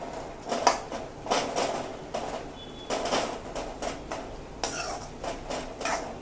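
Metal pot lid and utensils clink and scrape while taro leaf bhaji cooks in a pot, a series of light, sharp kitchen knocks and rattles at close range against a quiet room background.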